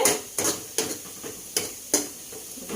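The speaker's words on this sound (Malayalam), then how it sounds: "അതേ ടൈമിൽ നമുക്കിവിടെ സവോള വറക്കാൻ വെച്ചിട്ടുണ്ട്" Sliced onions frying in a pan for biryani, with a steady sizzle broken by about five sharp scraping stir strokes at regular intervals, close and moderately loud with no talking.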